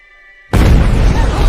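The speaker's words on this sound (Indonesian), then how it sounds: "Padahal itu hanya sebuah kembang api." Half a second of quiet tones, then a sudden loud boom bursts in and keeps crackling and rumbling heavily to the end.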